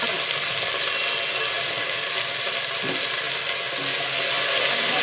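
Potatoes and cauliflower fry in hot oil in a pan for a Bengali bata fish curry, giving a steady, loud, close sizzle that hisses continuously throughout without pause.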